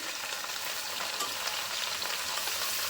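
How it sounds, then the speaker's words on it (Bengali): Turmeric-spiced mixture sizzles steadily as it fries in a pan, with faint scraping of stirring running throughout at a close, even level and no voices. "আর একটু হলুদ দিয়ে দেবো এবার এটাকে ভালো করে একটু নাড়াচড়া করে নেব"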